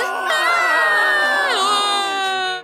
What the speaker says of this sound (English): Why are they screaming?